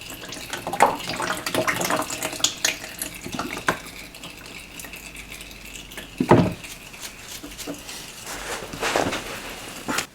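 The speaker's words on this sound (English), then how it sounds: "I put in a small bit of clean oil just to kind of rinse it out, and I could see that it's changed colour, and that's coming out now." Used engine oil pours from a car's sump into a drain container during a restoration oil and filter change, a steady splashing trickle with a few louder splashes and clunks, no talking.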